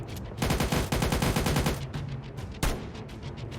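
Rapid automatic gunfire in a World War 3 military video game, dense bursts of shots close by with a sharp louder crack near the end and no talking.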